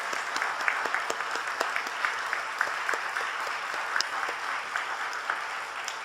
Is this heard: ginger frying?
no